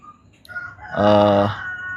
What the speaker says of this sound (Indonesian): anjir berisik banget si ayam